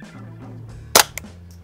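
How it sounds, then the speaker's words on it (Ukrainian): A Tactical Solutions survival rifle fires one sharp, loud shot close by. A faint metallic click comes just after, and low background noise runs beneath. "Зауважте ще звук пострілу."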